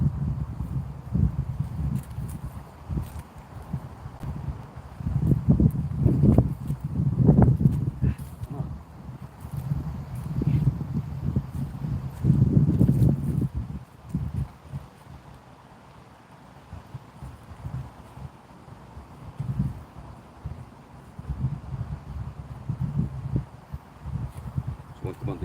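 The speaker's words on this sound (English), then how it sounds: "Because the wind is terrible." Strong wind buffets a microphone outdoors in loud, low gusts that swell and fade over the stretch, with a quieter lull midway.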